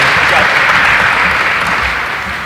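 Applause for a newly introduced state officer at a youth civic convention, a broad steady wash of clapping from a large hall crowd that runs the whole time and tapers slightly at the end.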